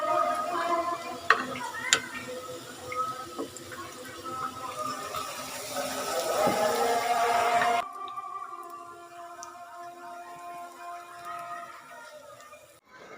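Pakoras fry in oil on a stove with a steady, crackling sizzle that runs for about eight seconds, then drops to a quieter hiss with a few light clinks.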